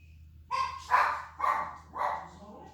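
A dog barks four times in quick succession, loud and fairly close, in an otherwise quiet indoor room with a faint low hum underneath.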